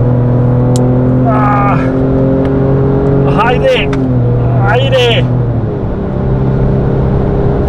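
Ford Raptor pickup, 2.5 tonnes with 290 hp and a 10-speed gearbox, drones loudly and steadily under acceleration, with someone shouting excitedly over the engine several times.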